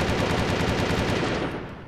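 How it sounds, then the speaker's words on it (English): Rapid machine-gun bursts from enemies in the airship video game Windforge, loud and dense, firing continuously before tapering off slightly at the end. "You fly right on up to these guys, and they start shooting"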